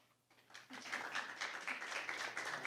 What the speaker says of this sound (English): Give her a round of applause for a very spirited rebuttal